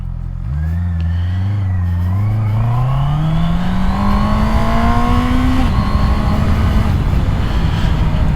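A Honda CB650R four-cylinder motorcycle engine revs steadily upward through the gears, its pitch climbing smoothly for several seconds before settling into a sustained high drone.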